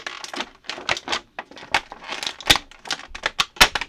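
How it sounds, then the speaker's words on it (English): Star Wars Black Series figures being pulled from their plastic packaging, with close, irregular crinkles and sharp crackling bursts, no talking. "All the crinkles"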